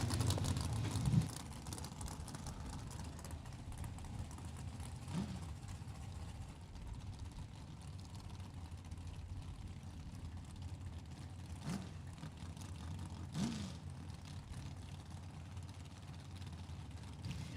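Drag racing cars idle and rev at the strip, a purple dragster among them, a steady distant engine rumble with a few sharp rising revs standing out at intervals, no talk.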